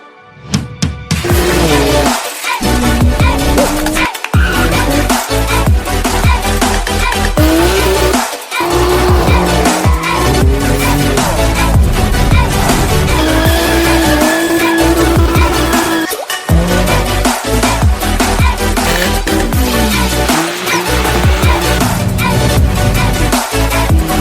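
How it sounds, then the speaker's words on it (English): A Mini Cooper R52 driving hard on a racetrack among supercars, engine roaring loudly and continuously with repeated high tire squeals and skids through the corners, up close, briefly dropping out between passes. "The Mini Cooper is going on track"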